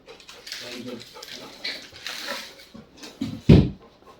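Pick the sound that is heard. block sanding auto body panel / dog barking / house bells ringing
dog barking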